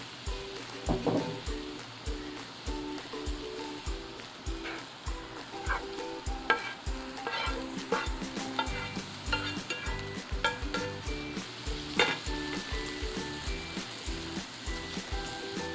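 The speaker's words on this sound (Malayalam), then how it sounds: "ഇനിയിപ്പോൾ നമുക്ക് പയറിലേക്ക് ഉണക്കക്കൊഞ്ച് ചേർത്ത് കൊടുക്കാം" Dried prawns tossed into half-cooked long beans in a hot pan, a steady sizzle and fry broken by repeated scraping stir strokes of a spatula, close and busy throughout with no voices.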